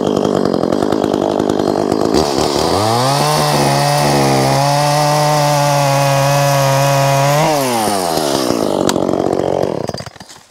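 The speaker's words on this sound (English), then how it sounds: "So a lot faster with the gas chainsaw" A loud gas chainsaw roars continuously while cutting wood, its engine revving up into a sustained bogging whine, then winding back down near the end.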